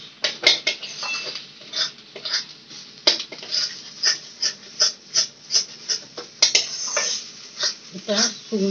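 A utensil scrapes and taps rhythmically against a pan while green banana (kanchkola) paste is stirred, repeated close scraping strokes under occasional talk.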